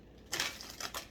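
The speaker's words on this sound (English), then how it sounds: "that was the sound of my Palo Santo" A palo santo wood stick is handled at close range: a soft, crisp rustle and a few light scraping clicks over about a second, quiet against a faint background hiss.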